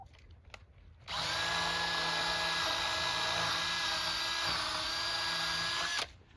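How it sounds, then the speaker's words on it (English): A power drill bores a pilot hole in wood for a chicken run roof, giving one steady high-pitched whine that starts abruptly, holds for about five seconds and stops, close and loud with no talk. "We'll drill our pilot hole so we don't split out our wood."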